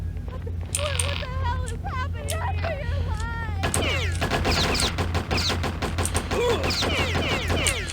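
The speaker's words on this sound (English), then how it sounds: "So they'll have their standard machine guns and stuff like that." Bursts of rapid machine gun fire rattle in the video game POSTAL. Shouting character voices come first, then dense, continuous gunfire fills the rest.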